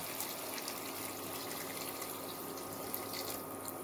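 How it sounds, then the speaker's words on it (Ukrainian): Steady rushing of boiled water pouring into a pan of meatballs, a continuous broadband splash with no voices. "заливаємо водою кип'яченою"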